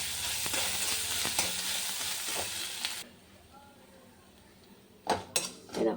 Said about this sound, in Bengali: একটু আদা দিয়ে দিলাম, ম্যাশিং করে রেখেছিলাম।